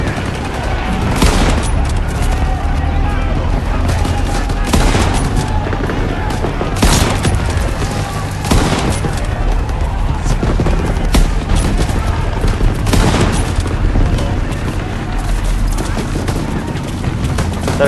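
Sustained World War II battle gunfire in Call of Duty WW2, set at the Battle of the Bulge, with steady rattling rifle and machine-gun fire and repeated loud shot bursts over continuous battlefield din.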